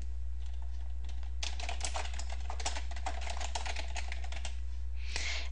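Rapid clicking keystrokes on a computer keyboard as a campaign name is typed, a close, dense burst of taps over a low steady hum, ending with a brief louder clatter.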